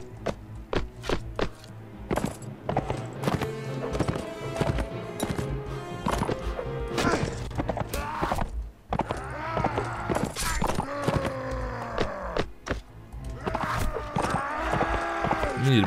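Horse hooves clip-clop in a medieval battle video game, a busy rhythmic run of sharp hoofbeats mixed with clashing combat noises and the occasional whinny, loud and continuous.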